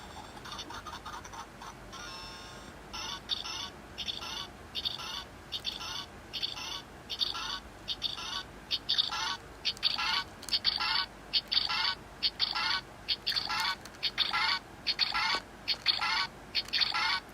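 Tomodachi Life video game audio playing: a rapid run of chirpy, bright electronic blips and ticks in regular bursts, getting louder and more rhythmic partway through, with no speech.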